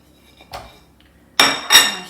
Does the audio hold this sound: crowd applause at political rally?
no